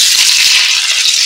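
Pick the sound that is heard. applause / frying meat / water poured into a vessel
frying meat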